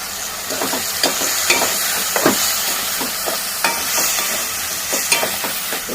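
Chili powder and coriander powder being stirred into a simmering brinjal curry, with a steady background sizzle and repeated soft scraping strokes of a spoon around the pan at close range.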